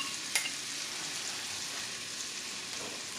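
One large chopped onion sautés in a pan for chicken pot pie filling, giving a faint, even sizzle with a single sharp clink near the start and no voices.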